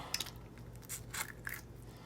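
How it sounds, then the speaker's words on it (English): Trout guts are pulled out by hand, giving soft, wet squelching and a few crunchy tearing bursts, quiet and close, spread across the clip without any talk. "You should be able to just pull all the guts away just like that."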